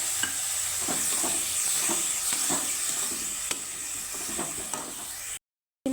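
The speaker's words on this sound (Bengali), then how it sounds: "সবগুলো মশলা আমি একসাথে সুন্দর করে কষিয়ে নেবো" Onion masala with spices and soaked asafoetida fries in a pan, a steady sizzle with repeated stirring scrapes at an even pace, close and continuous, ending in a brief silence.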